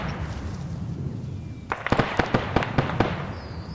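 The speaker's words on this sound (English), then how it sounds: "No, it was a bomb." A bomb goes off in the military video game ArmA 3, answered by a rapid cluster of sharp blasts and cracks after a low rumbling lead-in, loud and close with several distinct bursts in quick succession.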